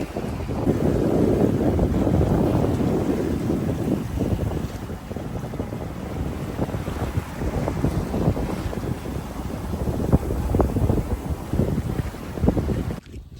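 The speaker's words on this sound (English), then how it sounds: "some wind comes from the side, it does push us forward maybe half a knot faster" Wind buffets a sailing boat crossing the open Pacific between Tahiti and Raivavae, a loud continuous rumble and roar against the microphone with gusts and some water movement, and no talking.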